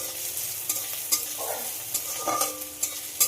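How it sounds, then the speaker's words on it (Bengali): Chopped onion and green chili fry in oil in a pan with a steady sizzle, broken by sharp scraping clicks of a spatula stirring at irregular intervals. "পেঁয়াজটা একটু ব্রাউন করে ভেজে নিতে হবে"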